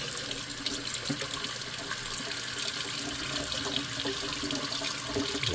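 Water runs steadily through a ported cylinder head (4910/501p) during a flow velocity test, a continuous faint splashing gush like a running tap with no voices.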